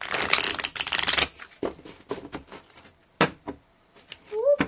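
Tarot cards are riffled and shuffled in a loud, dense burst up front, followed by scattered card slaps and soft handling taps at close range, with a brief faint whistle-like tone near the end.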